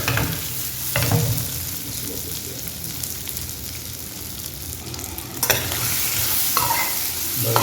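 Chicken liver for chukka fries in a pan with a loud, continuous close sizzle, broken by sharp stirring scrapes near the start and again past the midpoint.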